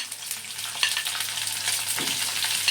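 Green chillies fry and sizzle in a pan, a crisp crackling hiss with occasional sharper pops and a stirring scrape partway through.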